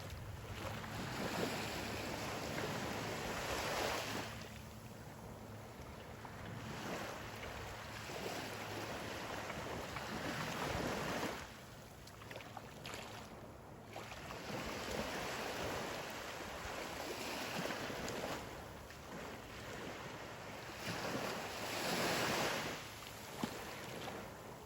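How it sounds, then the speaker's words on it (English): Ocean waves wash onto a Florida beach in slow, rolling swells that rise and fall every few seconds, soft and distant under a steady wind rush, with no voices. "this is an awful pretty view. I think I'll be quiet and let you have some beach time."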